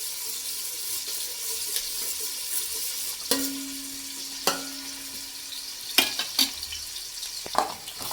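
Sliced onions frying in a pan for prawn biryani, a steady sizzle carrying on throughout, broken by a few sharp scrapes and clatters of stirring near the end, with a brief low hum in the middle.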